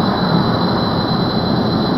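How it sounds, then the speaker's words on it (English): Rocket engines firing in Kerbal Space Program, a steady loud roar with a hiss on top that holds evenly throughout with no talking. "these engines are useless at high altitude"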